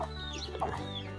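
A farm hen gives a short soft cluck, close by and brief, over a steady low rural background hum.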